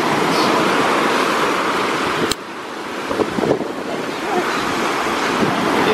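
Steady, loud wash of ocean waves at a white sand beach, a continuous roaring surf mixed with wind buffeting the microphone, with a brief shift and faint movement partway through.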